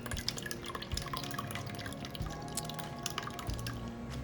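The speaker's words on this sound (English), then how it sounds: "I'm going to pour the cheese mixture over the cheesecloth so that I can capture the cheese curds and separate it from the whey." Cheese mixture of curds and whey dripping through cheesecloth into a strainer while making homemade farmer's cheese, a steady patter of close, quiet drips and trickles running throughout with no talking.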